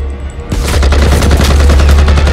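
Gunfire in a French film trailer, a loud, dense burst of rapid shots that erupts after a short quiet lead-in and roars on continuously with heavy low rumble.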